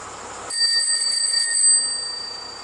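Ice cream truck bells ringing steadily, bright sustained chiming tones that start abruptly and fade slightly, heard clearly with no voices.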